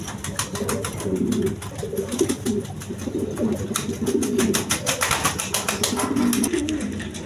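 Lahori pigeons for sale coo repeatedly in a steady, overlapping chorus, fairly close and continuous, with occasional light clicks and rustles around them.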